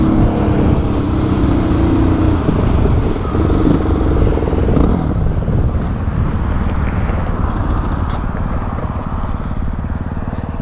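A motorcycle engine sputters and surges unevenly as it runs low on gas, a loud, close, rough drone that stays heavy throughout.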